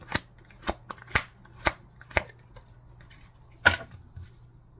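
Numerology cards are shuffled in a series of sharp, riffling bursts, five evenly spaced and then one more after a pause, close and crisp against a quiet room.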